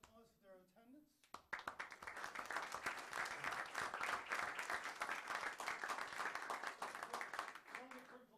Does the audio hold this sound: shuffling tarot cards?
no